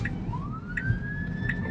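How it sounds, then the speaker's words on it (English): A fire truck siren wails behind a car driving downtown, a rising tone sweeping upward and holding high, heard from inside the vehicle over road rumble. "We got a fire truck behind us."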